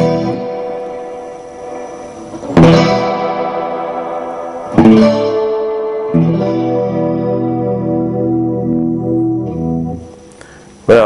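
Electric guitar chords ring out through a Hughes & Kettner Judge Fredd amp with reverb, each strum sustaining and decaying in a washy tail, several chords struck in turn, loud and alone.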